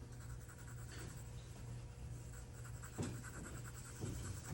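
Soft, continuous scratching of a pencil shading on paper, close but faint, with a steady hiss and a few slightly firmer strokes.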